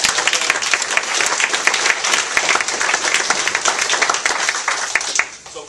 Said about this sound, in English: So everybody give a big round of applause.